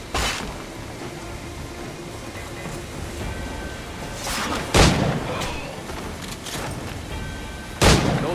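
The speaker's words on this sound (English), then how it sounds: "No man's immune to a pistol shot, I reckon." Two sharp pistol shots ring out in Assassin's Creed IV: Black Flag, one near the middle and one near the end, each a loud crack over a steady ambient game bed.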